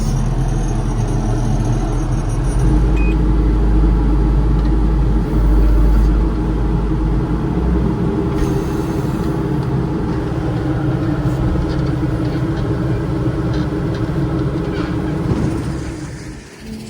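A large wheel loader's engine runs at a steady idle, a loud, close, continuous low rumble that holds for the whole stretch before easing off at the very end.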